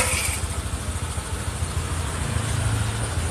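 Honda Vario or Beat scooter engine running after being started for a test, with a steady, close, buzzing idle and a faint lift in tone near the end.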